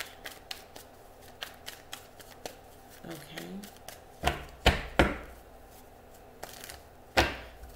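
Tarot cards are shuffled in a string of crisp, sharp riffles and taps, close and fairly quiet, with louder snaps near the end and a brief spoken word partway through.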